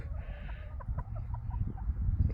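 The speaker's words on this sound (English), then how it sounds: "these 3 are my chickens" Three free-range farm chickens cluck softly near their coop, with short, scattered calls over a steady low outdoor rumble.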